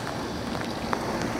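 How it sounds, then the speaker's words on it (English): Light rain falling outdoors beside a house with 4-inch vinyl siding and a leaking chimney, a soft steady hiss with scattered faint patters throughout. "it is kind of raining"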